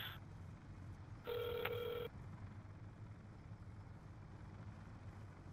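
A single telephone ring tone sounds for under a second during a prank call to Pizza Hut, fairly clear above a constant low hum, then the line stays quiet.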